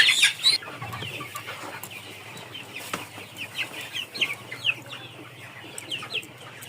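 Farm chickens cluck in scattered bursts, opening with a loud squawk and brief wing flapping, then irregular nearby clucks and calls without any speech.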